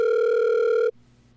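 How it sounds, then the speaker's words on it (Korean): A steady telephone dial tone sounds while a call is connected for a Korean news programme. It holds loud and even for just under a second, then cuts off abruptly, leaving a faint low hum. "김종성 기자를 전화로 연결해 보겠습니다"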